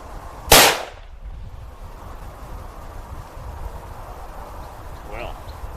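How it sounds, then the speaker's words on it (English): A single loud, sharp rifle shot from a CVA Scout in 45-70 Government, firing jacketed hollow point or Lever Revolution rounds at about 50 yards, cracks out once near the start and leaves a quiet outdoor tail. "Shooting the difference between the Winchester Super X jacketed hollow point and the Hornady Lever Revolution, about 50 yards."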